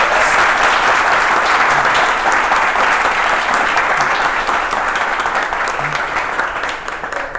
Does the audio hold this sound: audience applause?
yes